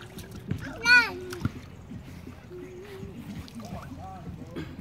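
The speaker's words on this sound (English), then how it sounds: "Are you splashing?" A baby splashes in pool water with an older sister, making brief wet slaps and splashes under a child's squeals and an adult's voice talking close by.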